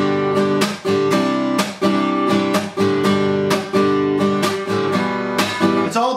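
Acoustic guitar strummed in a steady folk groove, with percussive palm snare slaps landing on beats 2 and 4; loud, close and continuous with no talking.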